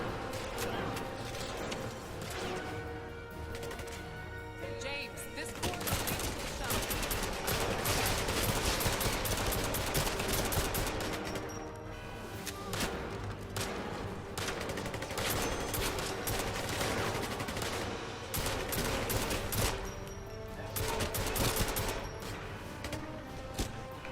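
Gunfire in the video game 007 Legends, sustained bursts of rapid automatic shots rattling on continuously and loudly, with little pause throughout.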